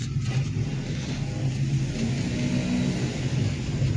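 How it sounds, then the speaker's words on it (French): A car's engine rumbles at a low, steady idle while it is being parked, close and continuous. "On va garer la voiture."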